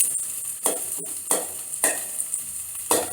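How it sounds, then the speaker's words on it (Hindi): Rice with half-raw vegetables and onion being lightly mashed and stirred in a hot pan, with a steady sizzle broken by four loud, regularly spaced scraping strokes of a spoon against the metal. "इसके लिए आपको ऐसे थोड़ा सा हल्का सा मैश करना पड़ेगा"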